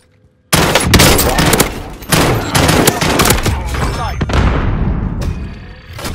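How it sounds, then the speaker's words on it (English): Video game gunfire in a sudden loud burst of rapid automatic shots and heavy impacts, close and sustained, thinning toward the end, with excited talk over it. "I am under fire."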